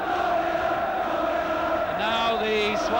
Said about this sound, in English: And now the Swansea crowd begin to sing "We're Going Up."